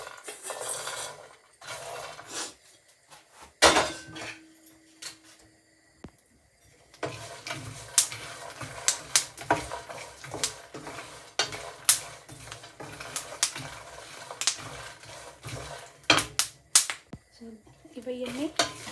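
Dry fruits and nuts, including pumpkin seeds, makhana, walnuts and dates, dropped into a mixer jar: scattered clinks and sharp taps of pieces hitting the jar, with brief pauses between handfuls, close and fairly quiet.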